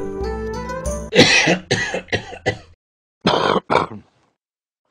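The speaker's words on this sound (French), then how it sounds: "Il fut d'un coup pris d'une grosse canne de toux qui le laissa suffocant." A strained tone gives way to a burst of harsh, rapid coughs, a pause, then two more coughs, close and loud.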